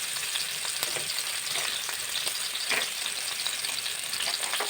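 Onion, tomato and curry leaves fry in a pan for horse gram sambar, giving a steady close sizzle with soft crackles and a few stirring scrapes, no voices.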